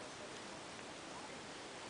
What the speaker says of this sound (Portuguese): Tá chovendo, né, mamãe? Não dá nem pra gente passear.